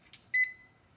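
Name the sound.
jump starter beeping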